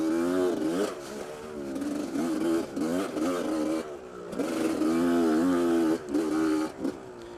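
A two-stroke motorcycle engine drones steadily while riding, its pitch rising and falling as the throttle changes, loud and close throughout.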